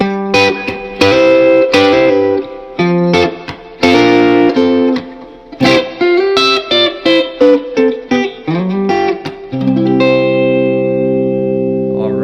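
Electric guitar with effects plays a classic rock rhythm fill over a 5-4-1 chord progression, choppy strummed stabs ending on a ringing sustained chord, loud and without voices.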